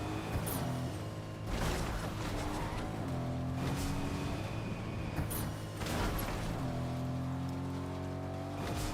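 Car engine in Fortnite droning steadily with shifting pitch, broken by repeated sharp crash and skid bursts as the vehicle bashes around, loud and continuous for the whole stretch.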